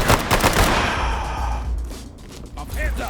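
A beanbag shotgun fires in a tactical shooter game, sharp close shots with rapid cracks in the first half-second and then a decaying rumble, followed by faint voices.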